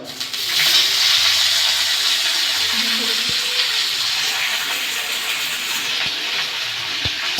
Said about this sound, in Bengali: কিশমিশটা আর কাজুটা একটু ভাজা হয়ে এসছে